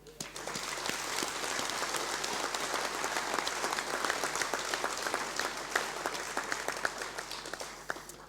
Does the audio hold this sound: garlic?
no